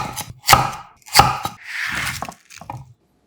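A knife cuts a halved lotus root into bite-size chunks on a board: two loud, crisp chops close up, then a scraping stroke and a few softer cuts before a brief quiet.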